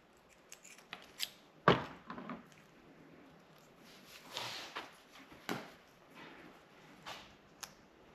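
Wire cutters snipping wiring to length while building a harness for auxiliary switches on a 2019 vehicle, with one sharp close snip followed by softer scattered clicks and handling noises, no talking.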